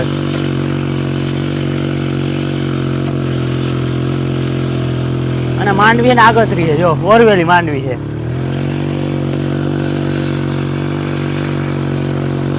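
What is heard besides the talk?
sanedo mini tractor with Suzuki engine running in groundnut field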